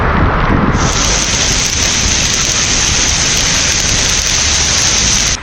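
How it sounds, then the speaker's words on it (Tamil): Heavy rain pours down in Chennai as a loud, dense, unbroken roar with a whistling wind-like hiss, filling the whole clip without any voices. "புறநகர் பகுதிகளிலும் கனமழை வெளுத்து வாங்கியது"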